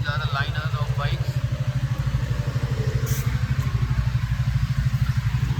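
Bajaj Pulsar and Suzuki Gixxer motorcycles idle together before a Republic Day group ride, a steady close engine thrum with regular low pulsing that runs throughout while a voice talks over it.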